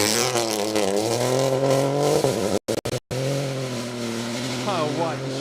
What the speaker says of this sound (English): Unmistakable popping and banging that comes with the theatre.